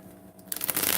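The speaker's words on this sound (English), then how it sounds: "I'm going to shuffle this 4 times for our Librans." Tarot cards are shuffled by hand, a short burst of close crisp riffling and rustling that begins after a quiet moment.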